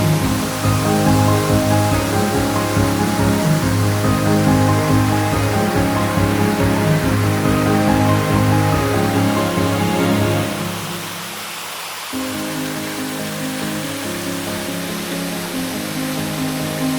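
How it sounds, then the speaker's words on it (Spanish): Steady roar of the Cascada de La Malena waterfall on the Cerezuelo river near Cazorla, a continuous broadband rush of falling water heard close up, with a brief dip in volume partway through. "Descendemos a los pies de la cascada para dejarnos impactar por su altura"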